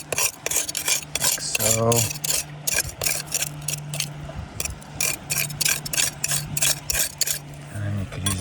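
Hand pick tool scraping and rasping in exposed bedrock crevices while gold prospecting in California, a rapid run of gritty scrapes up close, with brief talk over it.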